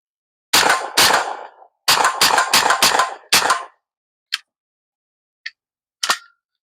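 Several sharp air rifle shots from an AEA T30, fired in quick clusters of close, loud cracks, followed by a few fainter isolated clicks or pops.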